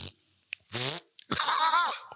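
A comedy podcast setting with two separate fart sounds: a short burst, then a longer, louder, drawn-out wet rasp after a brief pause, with no talking.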